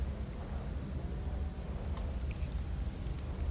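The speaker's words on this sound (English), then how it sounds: "It's raining." Steady rain falls in a video game, an even hiss with a low rumble underneath and no voices.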